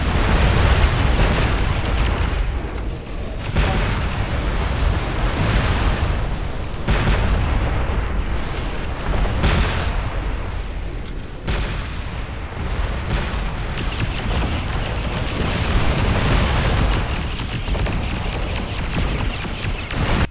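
Continuous heavy mortar barrage in the mech combat game MechWarrior Living Legends, set in a city: dense, rumbling booms and blasts roll on nearly unbroken at high loudness throughout, with no clear gaps between impacts.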